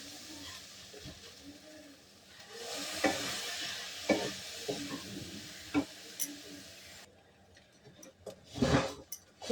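Oats being stirred slowly with a little water and chopped vegetables for an oil-free dish, giving close soft scraping and wet clicking strokes in an irregular rhythm, with a few louder knocks near the end.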